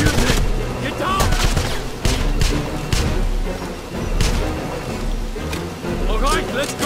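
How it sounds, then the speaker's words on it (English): Rapid bursts of gunfire and crossfire in the shooter game Wolfenstein, with repeated loud shots and thuds overlapping throughout, under shouted voices of soldiers. "I'm trapped by crossfire!"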